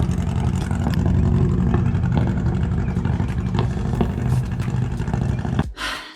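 A first-generation Honda CRX drives away with a steady, droning engine note that holds loud for several seconds before cutting off abruptly.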